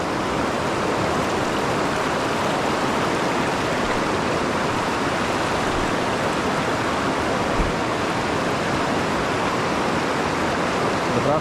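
A fast-flowing river in a jungle forest rushes continuously, a loud, steady, close roar of churning water with no pauses.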